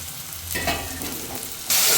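Spice paste fries with carrots, potatoes and cauliflower in a pan, making a close, bright sizzle with stirring scrapes that swells suddenly louder near the end.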